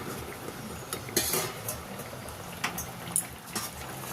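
Pot of tangy rohu fish curry with raw mango and potato being stirred after simmering: a close, soft liquid bubbling bed broken by several light clinks and scrapes of a spoon against the pot, no talking.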